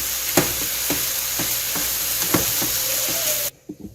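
Chicken fajita filling sizzles steadily in a frying pan for a pizza topping, a loud continuous hiss punctuated by regular clacks of a utensil stirring, cutting off abruptly near the end.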